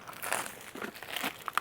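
Crinkling and rustling as packaging is handled and the storage case of a mini chainsaw is opened, a few soft close crackles in short bursts with no talking.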